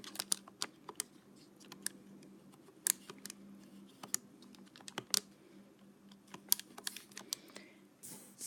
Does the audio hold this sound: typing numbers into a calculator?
yes